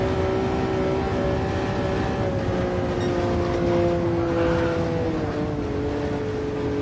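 Jaguar XJ13 V12 race car lapping the Nordschleife in Gran Turismo Sport, its steady loud engine drone with a sliding pitch blended with constant roaring wind noise, heard from inside the car throughout.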